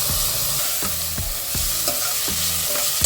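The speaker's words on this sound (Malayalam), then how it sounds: "ഇനി നമുക്ക് ഇതിനകത്തോട്ട് തക്കാളി ഇട്ട് കൊടുക്കാം" Tomatoes go into a pan of frying ginger and garlic for a mutton curry, a steady loud sizzle punctuated by regular scraping stirs of a utensil against the pan, with no voices.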